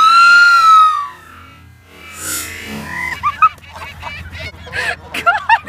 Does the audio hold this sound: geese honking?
yes